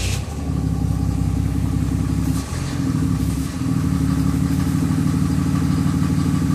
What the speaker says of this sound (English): I'm gonna crank it and you're gonna probably feel or hear a misfire.